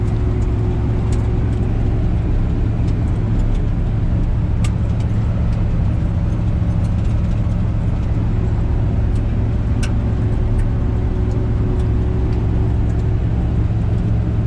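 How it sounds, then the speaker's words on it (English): A Chevy squarebody pickup, fitted with new tires and a new radiator, cruises along a road, its engine and tire roar forming a steady, loud drone throughout with no talking. "So let's just cruise on back home and enjoy the drive."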